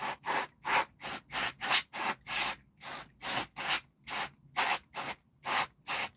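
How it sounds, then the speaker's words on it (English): Short bursts from a can of compressed air blowing dust out of workbench equipment, about a dozen hissing blasts in steady rhythm, close and alone with no talking. "Right, compressed air time."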